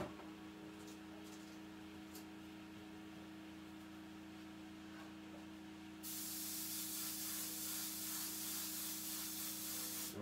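Spray paint hissing from a can onto a panda bear painting, starting abruptly midway as a loud, steady spray after a quiet stretch of faint scraping and handling noises.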